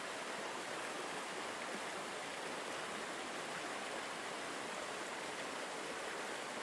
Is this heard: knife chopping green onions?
no